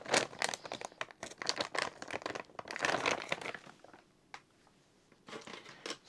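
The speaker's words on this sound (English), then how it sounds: "we're also going to put in some black gold orchid bark mix." Black Gold orchid bark mix being added to a plant pot during repotting, a dense run of close, dry crinkling and rustling chunks that pauses briefly and then resumes with a few more scattered rustles.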